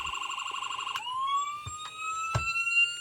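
An electronic police siren on a diecast model Florida Highway Patrol Dodge Charger wails with a rising, warbling tone, switching patterns partway through, close and clear, with a few soft clicks in the background.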